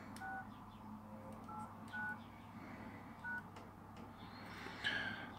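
Keypad tones from a Nokia 7373 mobile phone dating from 2010: a series of short, evenly separated beeps as keys are pressed, quiet and close against a low hum, with no talking.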